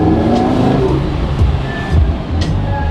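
A sports car in Sport mode revs loudly and steadily, its engine note rising and falling close by with a dense rumbling drone and faint clicks on top, no speech.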